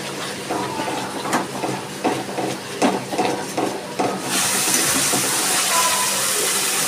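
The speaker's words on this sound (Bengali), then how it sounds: "এবার আমি মশলার বাটি দিয়ে অল্প একটু জল দিয়ে দিচ্ছি" Water poured from a spice bowl into a hot pan of fish curry with sour yogurt, after a series of soft clinks and scrapes of stirring, turns into a steady loud hiss and sizzle that fills the last few seconds.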